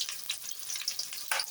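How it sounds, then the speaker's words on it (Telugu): Onions, green chillies and curry leaves frying in a pan for egg rice, with a steady close sizzle and a brief louder burst near the end as they are stirred. "2 రెమ్మలు కరివేపాకు వేసుకొని కొద్దిగా ఫ్రై చేసుకోవాలి"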